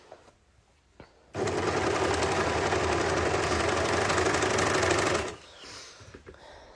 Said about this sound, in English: So I'm just going to sew that quickly.